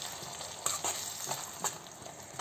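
A ground masala paste with bay leaf and curry leaves frying in a pan for a rajma curry, a quiet continuous sizzle broken by a few light stirring scrapes.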